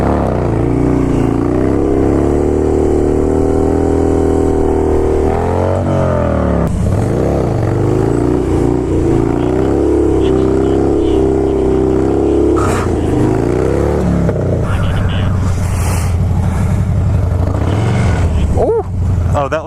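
A Harley motorcycle fitted with a 65-tooth rear sprocket roars loudly up close, revving through rising and falling engine pitch and shifting gears during a wheelie ride, with a rider talking over it.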